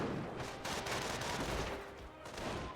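MG42 machine gun fire in Company of Heroes, sustained rattling bursts that roll on almost without pause over a dense battle din, with brief dips between volleys.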